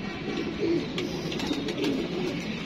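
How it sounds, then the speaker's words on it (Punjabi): A captured Chinese pigeon cooing close by in a few soft, low, throaty coos over a steady background hiss, with no speech. "ਲੈ ਜੀ ਦੋਸਤੋ ਚੀਨਾ ਕਬੂਤਰ ਪਕੜਿਆ ਜੀ"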